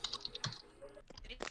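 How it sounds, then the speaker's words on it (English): Quick, close keyboard clicks tap out in a short irregular burst, fairly quiet with no talking. "The glorious typing."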